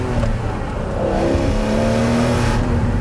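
A Ferrari 512M flat-12 engine revs loudly from inside the car, a rich rising growl that climbs in pitch and holds strong through the short burst.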